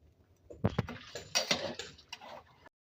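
Goat fat curry with aubergine and potato being stirred and fried in a pan, with clattering utensil scrapes and knocks on the cookware in short irregular bursts, close and fairly quiet.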